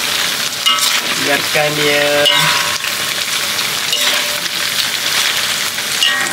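Beef dendeng with lemongrass and ginger fries steadily in hot oil with a continuous, close sizzle, broken by the clink and scrape of stirring, and a voice speaks briefly at the start.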